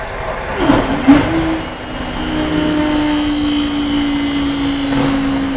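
At Great Northern Terrace level crossing in Lincolnshire, a train passes with a steady mechanical rumble and a long droning tone, with a couple of sharp knocks near the start, moderately loud and continuous, with no voices.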